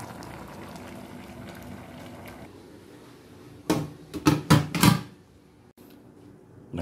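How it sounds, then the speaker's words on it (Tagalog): A pot of rice boiling on a home stove gives a soft, steady bubbling hiss, then a brief cluster of louder clattering, lid-like bursts near the end, heard close with no talking. "Nagsaing na tayo mga kabisda. Kumukulo na oh."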